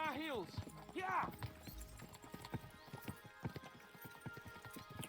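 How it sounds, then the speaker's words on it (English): Horses gallop in the medieval video game Kingdom Come Deliverance 2, their rapid hoofbeats drumming close under speaking voices, with a neigh near the start. "We should spur the horses on"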